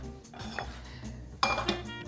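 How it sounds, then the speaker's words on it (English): Metal pans clank and scrape as they are shifted around on a kitchen stovetop where sausage is sautéing, with a sharp clatter partway through and a few smaller knocks, close and without talking. "I think what I'm going to do is switch these pans around so Alan has it a little more convenient."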